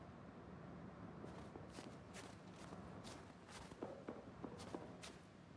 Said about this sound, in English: It's about listening to the footsteps as well.